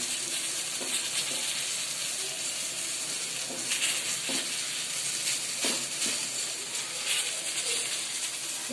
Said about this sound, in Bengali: তারপরে বেগুন ভাজি করা হচ্ছে।